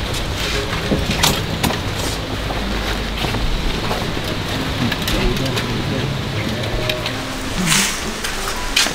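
Rain and wind at sea during a night fishing trip, a steady broadband hiss with gusty buffeting against the microphone and occasional splashes, while people talk over it.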